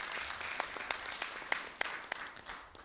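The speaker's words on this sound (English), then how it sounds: "I think that deserves a round of applause." Audience applause at a presidential speaking event, a faint, sparse patter of clapping hands from a crowd, with scattered sharper claps over a few seconds.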